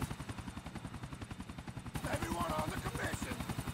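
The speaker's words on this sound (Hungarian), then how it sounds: "jön érte helikopter" A helicopter arrives in Grand Theft Auto IV with a strong, steady rotor thump pulsing rapidly throughout. It grows louder and busier halfway through as other game noises join in.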